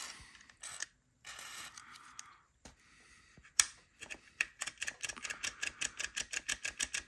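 Lubricated switch on a 1993 Soundstream Reference Class A 3.0 car amplifier being worked back and forth, giving a rapid series of small mechanical clicks and scrapes that grows steadier toward the end, close and quiet, with no voices.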